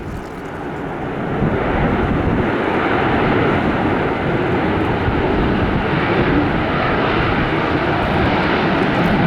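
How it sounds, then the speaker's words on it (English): An American Airlines jet takes off from runway 19 right at Tampa International Airport, its engines building to a loud, sustained roar that stays heavy and steady to the end, with no voices. "Air 1101, runway 19 right, clear for takeoff."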